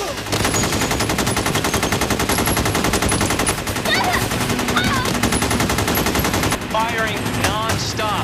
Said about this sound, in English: Firing non-stop.